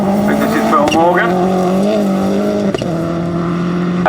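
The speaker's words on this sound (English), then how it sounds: "So yet another blue Subaru coming" A blue Subaru rally car on a stage of the 2004 Swansea Bay Rally roars past close by, its engine note held steady and rising in pitch with gear changes, while a commentator talks over it throughout.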